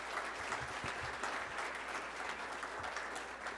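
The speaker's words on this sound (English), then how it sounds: "One last round of applause for these guys." Audience applause at a Detroit Lions event, a dense steady round of clapping from a crowd, fairly distant and even throughout with no talking.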